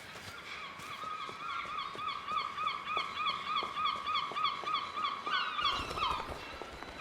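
In the video game Broken Pieces, a flock of crows keeps cawing steadily for several seconds. The harsh calls overlap in a dense, rhythmic chorus, with a louder burst near the end.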